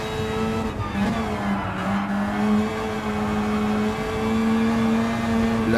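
Car engine in the OTOCAR RX racing game holding a strained, steady rev with a sustained tonal whine that dips and climbs slightly, loud and close with no voices.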